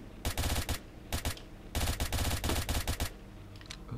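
Automatic gunfire in the game Stalker L.U.R.K. comes in several rapid bursts, loud and near, with short pauses between them and a few scattered clicks afterward, and no talking.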